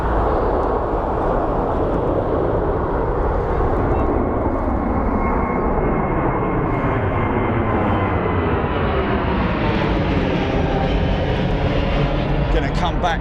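An airliner roars down Heathrow's runway 09R on its takeoff run and lifts off, a loud, steady jet-engine rumble that holds for the whole stretch and slowly shifts in tone as it climbs away.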